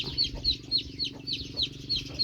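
A duck kept near a house, with hens about, calls in a steady rhythm of short, bright, repeated honks over a continuous low farmyard hum, close by and fairly loud.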